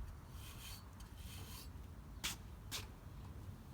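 A body brush and metal curry comb work over a horse's coat, giving faint, close rasping strokes in a loose rhythm with two sharper scrapes near the end.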